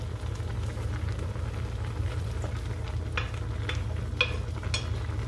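Native chicken with gizzard simmering in broth in a pot, a steady low bubbling hiss running evenly throughout with a few faint clicks and stirs near the end.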